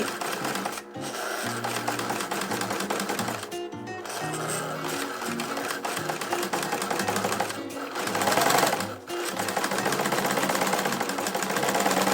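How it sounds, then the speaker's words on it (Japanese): An overlock serger stitches along a fabric edge with a fast, even mechanical whir and rattle, close and loud, running almost continuously with a few brief pauses and speed changes. "うやってこの縫う辺をまっすぐになるようにしながら縫っていきます"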